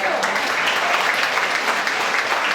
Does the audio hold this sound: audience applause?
yes